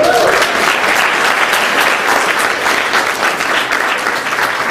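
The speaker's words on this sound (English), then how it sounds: "I hope you'll join me in giving them a applause." An audience applauds supporters, a loud, sustained roar of many clapping hands close by and alone, holding steady before tapering slightly at the end.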